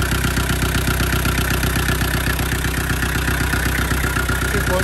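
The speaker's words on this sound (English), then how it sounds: "Here we have a 12J engine." A 2.5-litre naturally aspirated 12J diesel engine in a Land Rover Defender 110 idles close by, chugging in a steady, even rhythm with a metallic clatter over a low rumble.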